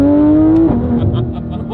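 Roughly 500-horsepower supercar on stock exhaust blipping its engine during a downshift, a loud close rev that holds then drops sharply in pitch and settles into a lower burbling idle.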